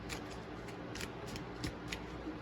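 Tarot cards shuffled by hand in quick riffling bursts, soft papery flutters and taps repeating close up against a steady background hiss.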